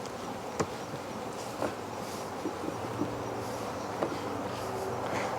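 Caucasian honeybees hum in a continuous low buzz, with a few close ticks and bumps scattered through the steady drone.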